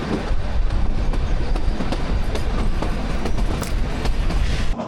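The 52451 Shivalik Deluxe Express, a narrow-gauge toy train on the Kalka to Shimla line, rumbles and clatters steadily and close by, with a continuous loud rolling wheel noise and no voices.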